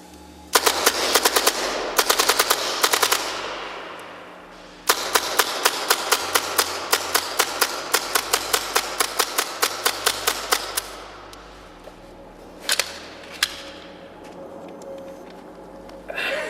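A Tippmann airsoft M4 gas blowback rifle fires long full-auto bursts of sharp, rapid cracks with a steady mechanical rhythm, pausing between strings, then a couple of last single shots as the magazine runs dry.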